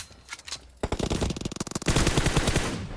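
Rapid automatic gunfire from the battle royale game PUBG, loud and close, bursts of shots gathering into a dense sustained volley after a brief quieter lead-in, with no talk over it.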